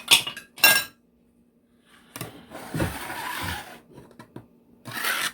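A mess is wiped and scraped off a ridged kitchen countertop: a couple of short clinks of utensils, then a rough rasping rub across the ledged surface, with a final scraping burst and no talking.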